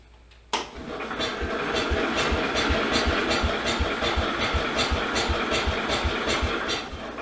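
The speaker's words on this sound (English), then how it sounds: "Let's see if we can get the engine started here." Cub Cadet mini dozer engine catching after a brief silence, then settling into a loud, steady idle with a regular low chugging pulse, close by with no talk.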